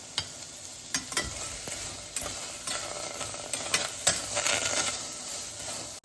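Onions, tomatoes and whole garam masala dry-fry without oil in a pan. A close, gritty sizzle runs under frequent scraping stirs and small clinks, with no talking.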